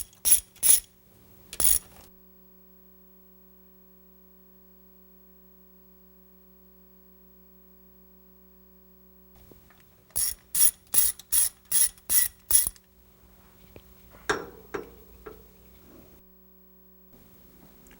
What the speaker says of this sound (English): next we remove the mounting bolts